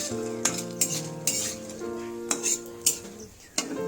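Bottle gourd greens fry and get stirred in a pan, with repeated scraping and clinking strokes of a utensil over a soft sizzle, while steady background music plays underneath.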